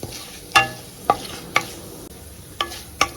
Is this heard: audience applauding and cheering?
no